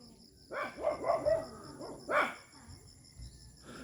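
Dogs barking outdoors in Dumaguete, a burst of several quick barks close by followed by another short bark, with quiet insect-like background between.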